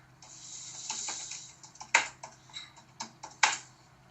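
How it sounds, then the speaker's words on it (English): Fingers type on a computer keyboard in short bursts of soft clicking keys, with a few louder isolated taps standing out, close and quiet with no voices. "So just go ahead and type it in first."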